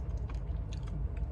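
Crunchy Twiglets snacks are chewed close up, a quiet run of soft crunching bites repeating in an irregular rhythm.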